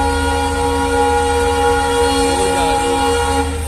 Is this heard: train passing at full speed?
yes